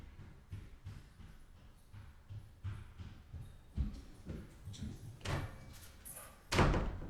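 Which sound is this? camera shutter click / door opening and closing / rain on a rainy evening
door opening and closing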